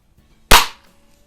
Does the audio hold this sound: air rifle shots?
yes